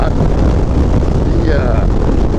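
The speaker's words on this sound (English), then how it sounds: "oh, that wind is hard." Steady, loud wind buffets the microphone on a Harley motorcycle ride along a road, a continuous low roar filling the whole stretch with no clear voice over it.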